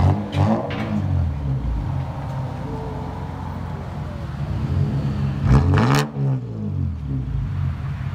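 A 1992 Lexus SC300 with straight-pipe dual exhaust, muffler and resonator deleted, idles with a deep burble close by and is revved in short blips, a sharp bark near the start and another past the middle.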